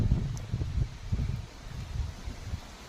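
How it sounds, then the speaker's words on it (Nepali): Wind gusts outdoors in a Sikkim village, rumbling and buffeting against the microphone in uneven surges, with a faint rustle behind. "कस्तो मिठो हावा चल्यो।"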